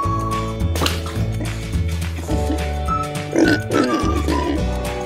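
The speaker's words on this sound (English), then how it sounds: "Pig." A pig gives grunting oinks over steady background music, several short snorting calls clustered in the latter half.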